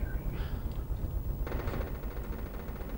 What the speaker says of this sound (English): Yeah, tank firing his machine guns.